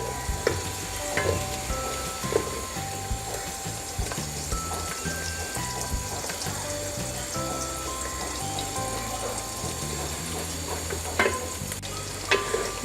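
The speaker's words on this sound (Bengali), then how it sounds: "পেঁয়াজগুলোকে ভালোভাবে ভাজতে হবে" Onions frying in a pan for Bengali-style chicken khichuri, a steady bubbling sizzle with periodic scraping and clinking as they are stirred, background music playing softly underneath.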